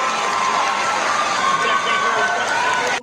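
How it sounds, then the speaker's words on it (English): A crowd cheering and shouting at a steady roar, with whoops rising from a dense mass of voices and no clear individual speech. "The crowd seems to like it."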